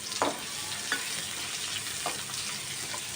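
Thinly sliced onions and whole spices (cloves, cardamom, cinnamon stick, stone flower) frying in hot oil for mushroom pulao, a steady sizzle with a few soft stirring scrapes, close and moderate with no voices.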